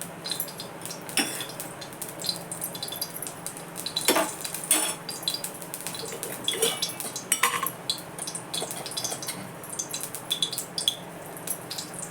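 Puffed rice (kurmura) being heated and stirred in an oiled kadhai on a gas stove gives soft scraping and clinking of a spatula against the pan, intermittent and close, with a light rustling hiss.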